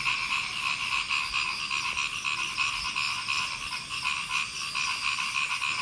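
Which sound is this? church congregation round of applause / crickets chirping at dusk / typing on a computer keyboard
crickets chirping at dusk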